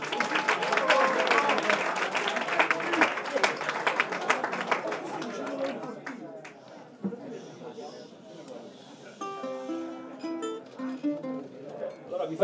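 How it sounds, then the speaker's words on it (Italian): Concert audience at an acoustic blues show in Cantù gives a loud burst of applause that fades after about six seconds, followed by quiet acoustic guitar notes as the performer begins playing. "a cui va un applauso"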